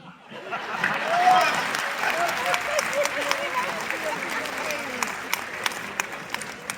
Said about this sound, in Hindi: शंभू के लिए ताली उठाना।